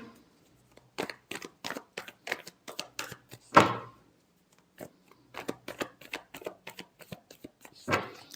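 Tarot cards are shuffled close up in repeated crisp riffling bursts, with a few short pauses and one heavier slap partway through, without any talking.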